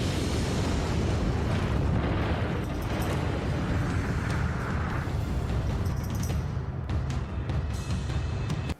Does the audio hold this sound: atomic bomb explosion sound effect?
yes